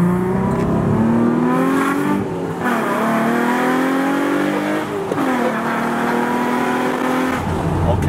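A modified Nissan 350Z engine revs hard through rising gears, its pitch climbing and dropping between shifts, loud and close with a raspy exhaust tone.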